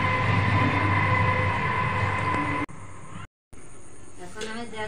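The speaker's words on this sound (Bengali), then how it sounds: "শিয়ালদা টু বনগাঁ লোকাল যাচ্ছে, এই যে সম্ভবত, না হলে দত্তপুকুর লোকালও হতে পারে।" A Sealdah to Bongaon local train passes nearby with a loud, continuous rumble and rattle of wheels. The noise cuts off abruptly and returns quieter, with a voice talking over it.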